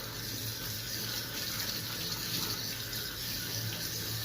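Tap water runs steadily into a sink while something is washed under it, a continuous close gushing flow with no voices.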